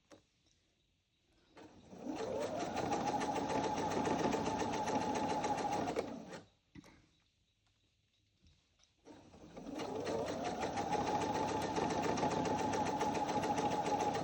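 A sewing machine stitches a Valentine pillow in two long steady runs, loud and close, with a short pause between bursts and no talking over it.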